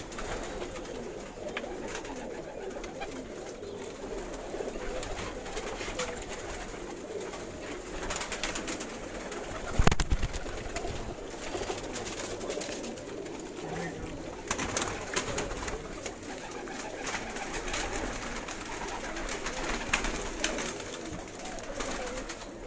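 A huge flock of pigeons, well over a thousand, coos continuously on a rooftop in Karachi, a dense soft murmur with occasional wing flutters and a sharp knock near the middle.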